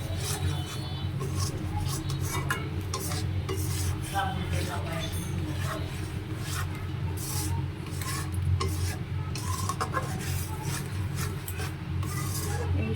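A spoon scrapes and stirs peanut brittle mixture cooking in leftover rasgulla syrup in a pan, giving repeated close rubbing and rasping strokes with occasional light clinks, under a low steady background hum.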